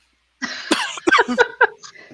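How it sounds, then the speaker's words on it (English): A single person coughs several times in quick succession, close and fairly loud, with brief throat sounds between the bursts. "now I have a cough"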